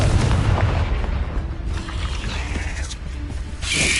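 A Confringo spell cast in the game Hogwarts Legacy, heard as a loud rumbling blast with mechanical clanking and ratcheting textures, followed by a brighter crackling burst near the end.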